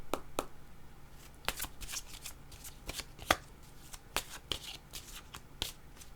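A deck of cards is shuffled for a card reading, with quiet, close riffles and soft snapping ticks in an irregular rhythm, alone in a calm room.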